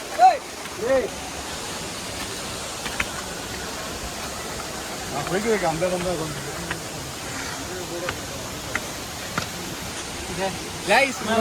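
Palaruvi waterfall in a Kerala forest pours down from above in a constant broad roar, with people talking faintly over it at times.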